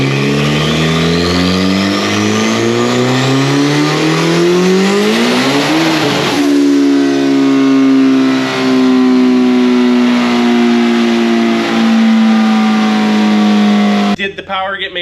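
Turbocharged third-generation Suzuki Hayabusa engine screaming hard on a full-power run, its pitch sweeping steeply upward before settling into a loud, sustained high-rev howl that cuts off abruptly near the end.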